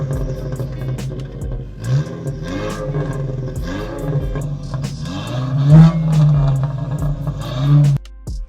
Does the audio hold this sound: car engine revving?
yes